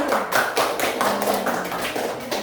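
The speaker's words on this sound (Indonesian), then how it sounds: "tepuk tangan untuk kelompok singa" Classroom applause for a student group, a short burst of rhythmic unison hand clapping from children, close and fairly loud.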